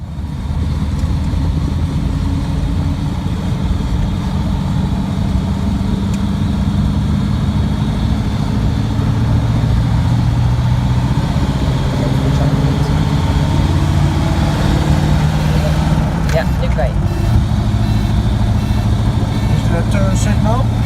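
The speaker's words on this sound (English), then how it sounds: "Driving now 80 kilometers an hour." A vintage Delage D8 with its original engine drives at about 80 km/h, giving a continuous low mechanical drone with road noise that stays steady and loud throughout.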